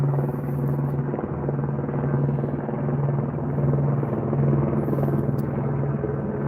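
A police helicopter circles overhead, its steady rotor thump and low engine drone continuing unbroken and fairly loud, with no voices over it.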